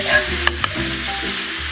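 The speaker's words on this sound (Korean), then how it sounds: "버섯볶음, 요거를 같이 넣어서 재빠르게 섞을 겁니다" Mushrooms are stir-fried in a hot pan for a chop steak, giving a brief, steady sizzle close by with a couple of quick scraping stirs.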